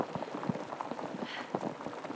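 Heavy rain falls at night, a dense steady patter of drops striking a surface with irregular louder splashes, fairly close and continuous, with no voices.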